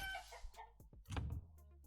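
Chickens in the medieval settlement game Manor Lords cluck in a few short, moderately loud bursts, with a brief squawk, and no talk over them.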